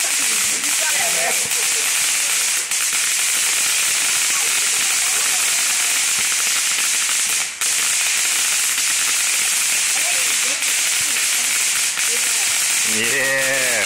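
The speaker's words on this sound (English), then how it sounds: "Get the fireworks in there." Fireworks and firecrackers go off outdoors in a steady, loud, hissing crackle with a few sharper bangs, while people shout and talk throughout.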